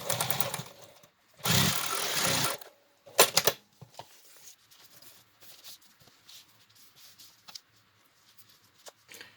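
Sewing machine stitching crazy-quilt scraps for a paper-pieced pattern, a loud burst of running stitches lasting about a second, a brief second spurt, then quieter rustling and handling of fabric.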